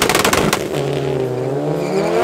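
Little Honda race car accelerating down the drag strip at Midvaal Raceway against an all-wheel-drive Golf 7R, a loud engine roar rising in pitch as it pulls away, after a brief burst of sharp mechanical crackle.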